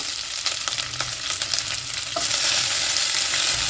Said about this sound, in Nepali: प्याजलाई मजाले भुट्ने